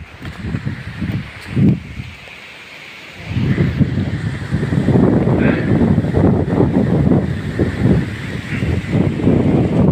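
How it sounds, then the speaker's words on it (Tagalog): Strong wind buffeting the microphone in heavy low rumbling gusts near the top of a mango tree, loud and continuous after a brief lull. "Malakas yung hangin."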